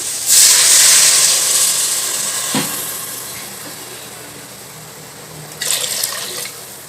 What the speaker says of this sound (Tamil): 4 இல்லைன்னா 5 அழகு கூட தண்ணி ஊற்றிக்கலாம்.